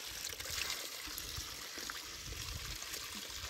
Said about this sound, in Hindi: ये है पानी का नलका